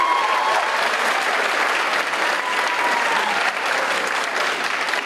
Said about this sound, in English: let's give another round of applause to Mr. Freeman